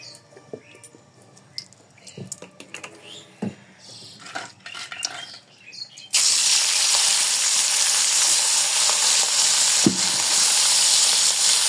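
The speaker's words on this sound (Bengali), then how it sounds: "মাছটা ভালো করে ভাজতে হবে, আর এই কড়াইটা কিন্তু ভালো করে একদম হিট দিয়ে আনতে হবে" Tengra fish frying in hot oil in a wok: soft, scattered kitchen handling gives way midway to a loud, steady, close sizzle that continues to the end.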